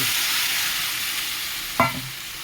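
Potatoes, brinjal and mixed vegetables coated in garam masala and Kashmiri chilli powder, with a splash of water, hiss in a pan. One brief, sharper scrape of a spoon stands out near the end.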